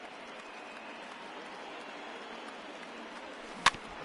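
Stadium crowd cheering and applauding in MLB The Show 20 baseball video game as the Yankees close out a win over the Tigers: a steady, even roar throughout, broken by one sharp click near the end.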